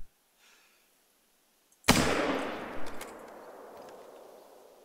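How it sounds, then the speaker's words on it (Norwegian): A single rifle shot cracks out loud and close while hunting black bear outdoors, followed by a long decaying echo across the landscape, with near silence before it. "Og så, bang! Det var skuddet."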